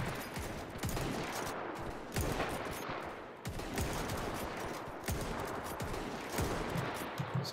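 Gunfire in Mount & Blade: Warband with the Parabellum mod, rifles and pistols crackling in dense overlapping volleys, loud sharp cracks repeating throughout as a continuous battle fusillade.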